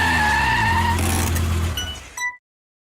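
A 2020 Lamborghini Huracan Evo Spider drives hard, its engine roaring loudly with rising and falling tones and a hint of tire scrub, then cutting off abruptly after about two seconds.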